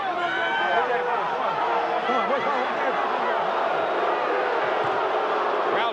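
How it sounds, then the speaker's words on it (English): A boxing crowd at the Evander Holyfield vs Riddick Bowe heavyweight fight boos in a loud, sustained roar that fills the arena throughout, with a commentator's voice running over it. "Crowd booing Cortez's actions."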